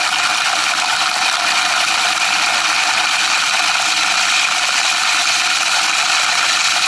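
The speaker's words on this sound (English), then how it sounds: "So these 2 flywheels are spinning in opposite directions" Two coil-driven flywheels spin in opposite directions at about 18 hertz, giving a loud, steady mechanical whir with a fast ratcheting clatter running unbroken and close throughout.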